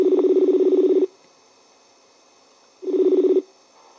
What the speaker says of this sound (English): we managed to get Tom on the Fringe phone last week